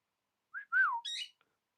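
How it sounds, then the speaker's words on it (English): A cockatiel gives a short burst of whistled calls: a brief rising note, then a louder swooping whistle and a harsher chirp, close and clear against near silence. "That's it. That's the cockatiel noise."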